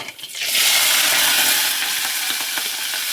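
Mustard seeds and onions hit hot oil with a loud, sustained sizzle that bursts in after a brief quiet start and holds steady, close and bright, with faint crackles throughout.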